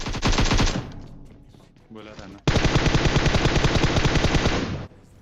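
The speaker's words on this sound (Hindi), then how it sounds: "मैं वेट करता हूँ उन्हें पहले गोली चला के कि क्या पता आ जाए" Automatic rifle fire in PUBG Mobile, with a rapid burst, a quieter lull with a short spurt, then a long loud continuous stream of shots, and someone briefly speaking between bursts.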